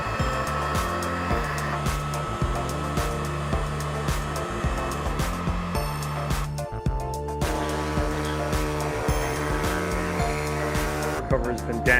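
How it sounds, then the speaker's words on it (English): A heat gun blows with a steady, high-pitched mechanical whir onto a damaged car cover, its tone shifting slightly partway through as it runs continuously. "heat it up quick with a heat gun"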